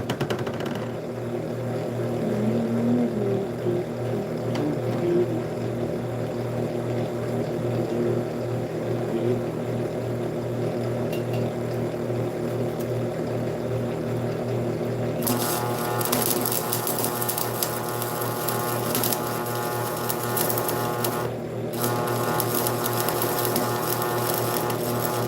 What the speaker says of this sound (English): I'm welding. This is the exhaust of my truck